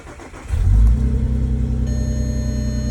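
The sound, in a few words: Audi VR6 engine revving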